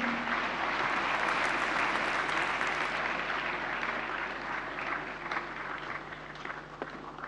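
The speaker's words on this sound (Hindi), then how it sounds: "जोरदार तालियां एक बार फिर से" Audience applause at a national conclave book-release event in Delhi's Vigyan Bhawan, sustained dense clapping that slowly tapers toward the end.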